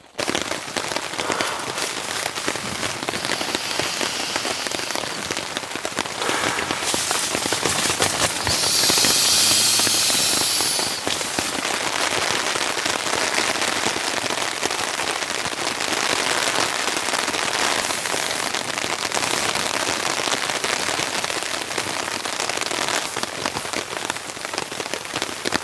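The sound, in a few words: heavy rain falling on tent and tarp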